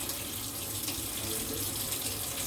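Fresh cilantro is rinsed under a running kitchen tap, giving a steady, close hiss of flowing water with no pauses and no voices.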